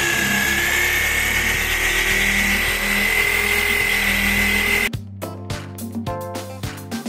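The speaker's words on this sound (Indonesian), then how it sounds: "Kemudian kita bor daun pintu sesuai kertas mal pengeboran." A 25 mm spade bit bores through a wooden door leaf, a loud, steady high-pitched drill whine held for about five seconds, then stopping into a few sparse knocks and rattles.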